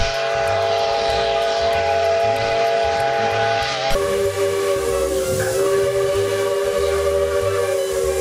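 A steam train whistle blows a long, loud, steady tone, shifting pitch midway, over a rhythmic chuffing engine and hiss.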